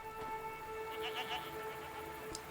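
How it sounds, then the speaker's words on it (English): A goat-like creature in the video game Season: A Letter to the Future bleats in a drawn-out, wavering call over a steady electronic hum, fairly faint and alone. "What are these strange goat-like creatures?"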